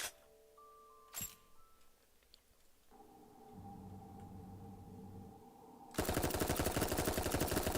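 Submachine gun in the mech game Armored Core, a quick run of closely spaced rapid shots arriving near the end after quieter mechanical hums and a single sharp hit.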